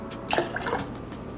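Cranberry juice poured from a bottle into a cocktail shaker for a cosmopolitan, giving a short, soft liquid trickle and splash at close range with no voices.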